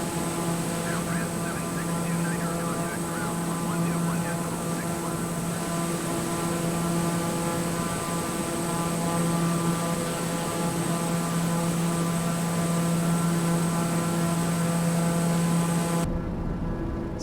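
A simulated aircraft engine drones steadily in Microsoft Flight Simulator during a flight over Neuschwanstein Castle, a continuous loud propeller hum with constant tonal layers, cutting off abruptly at the end.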